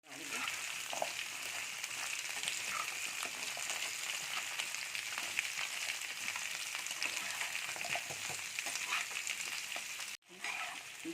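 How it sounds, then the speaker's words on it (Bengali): Papaya pieces fry in a pan of hot oil with bay leaf and panch phoron five-spice, giving a steady, dense sizzle close up that barely breaks except for a brief dip near the end. "প্যানের মধ্যে তেল, প্যানের মধ্যে তেজপাতা, পাঁচফোড়ন একটু ভাজা ভাজা যখন হয়ে আসবে এবার দিয়ে দেবো পেঁপেগুলো"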